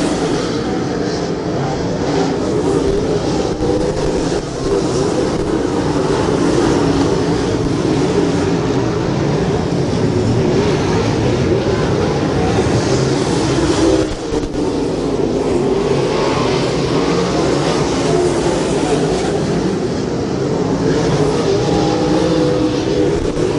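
UMP modified race cars race at East Bay Raceway, their engines making a loud continuous roar that swells and fades as the pack circles the track, with no voices.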